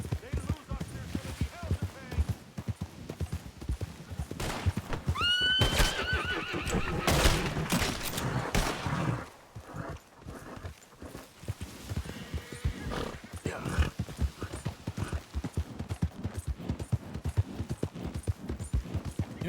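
A horse whinnies loudly mid-clip amid steady clip-clopping hooves in Red Dead Redemption 2, with a person talking intermittently over the game sounds.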